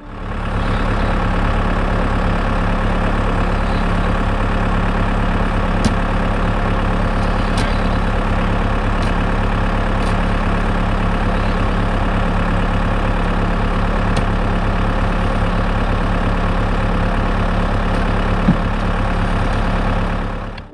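A tractor engine runs steadily at idle, a constant deep mechanical drone with a few faint clicks, loud and close throughout.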